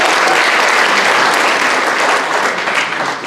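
A church audience gives a hearty welcoming round of applause at a New Year gathering, dense, loud clapping throughout that tapers slightly at the end.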